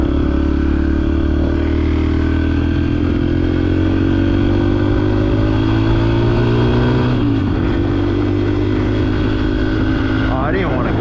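A dirt bike is ridden wide open along back roads, its engine droning loud and close in a steady high-revving note with rushing wind, easing and shifting pitch briefly near the end.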